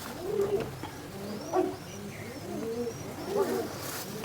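A pigeon coos close by, giving several soft, low, throaty calls in loose succession over a faint background hum, with no talking.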